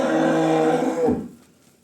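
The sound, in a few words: Girlendo cow mooing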